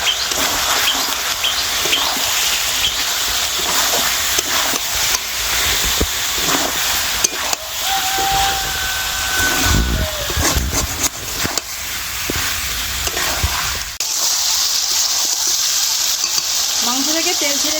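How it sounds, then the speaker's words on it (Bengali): Chicken curry with spices stir-fried in a pan for Dak Bungalow chicken, giving a loud, continuous sizzle close up with scraping and stirring bursts throughout; a steadier hiss takes over toward the end. "এখন ভালো করে কষিয়ে নেব"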